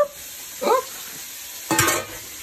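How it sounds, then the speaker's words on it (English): Vegetables are stirred in a pan with two brief scraping, sizzling strokes close by, while noodles are strained for an Asian noodle dish. "while we're straining the noodles, I'm going to keep stirring the vegetables"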